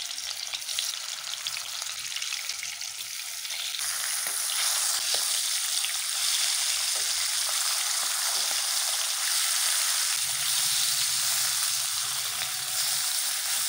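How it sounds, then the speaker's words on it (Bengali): Rohu fish pieces, salted and rubbed with turmeric, fry in hot oil in a wok, a steady dense sizzle that grows louder after a few seconds and continues close up without any voices. "প্রথমে মাছটা ভাজি নেব"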